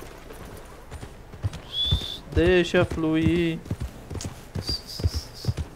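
Hooves clip-clopping as a horse arrives in a Western roleplay game, quick rhythmic knocks mixed under loud overlapping speech and a short tonal whinny-like sound.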